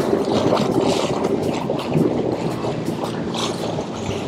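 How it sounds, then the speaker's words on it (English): Wind buffeting and choppy water slapping around a Sea-Doo personal watercraft off the backside of the islands near Sauble Beach, a loud, steady rush with uneven splashes, no talking. "it's still kind of choppy and windy out here"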